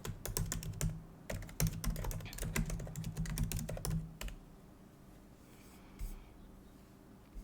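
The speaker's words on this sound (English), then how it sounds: "Like I just typed in" Rapid clattering keystrokes on a computer keyboard, close and fairly soft, in bursts for about four seconds before trailing into quiet room tone.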